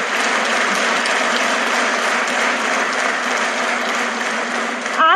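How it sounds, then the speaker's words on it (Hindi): An audience breaks into loud, sustained applause at a success-story event, dense clapping filling the room for about five seconds before a voice cuts in at the end. "तालियां इतनी नहीं, तालियां ऐसी कि वो जहां भी हो उनको सुनाई दे।"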